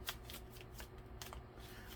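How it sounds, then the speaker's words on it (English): Tarot cards being shuffled by hand, a series of papery riffles and soft slaps spread across a couple of seconds, close and fairly quiet, with no talking. "Let me give it a shuffle"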